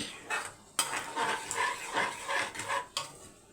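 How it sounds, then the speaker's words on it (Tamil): Rice for egg fried rice is mixed in a pan with a spoon, making repeated close scraping and clattering strokes in an irregular rhythm over a faint sizzle. "நல்லா மிக்ஸ் பண்ணி விட்டுருங்க."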